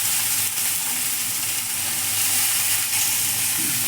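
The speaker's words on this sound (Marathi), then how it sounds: "हे बघा, चांगल्या तेलामध्ये असं हलवून घ्यायचं." Drumstick pods and chana dal fry in hot oil while being stirred, a steady dense sizzle with faint scraping, close and continuous.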